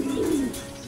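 A racing pigeon at a loft landing board gives a single short, low coo, heard close against soft outdoor background noise.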